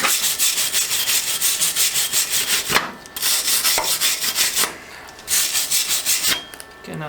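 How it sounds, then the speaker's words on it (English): A small 110 welder lays weld passes in bursts of harsh, steady crackling and sizzling, separated by short pauses between beads. "these are our first passes on that little 110 welder"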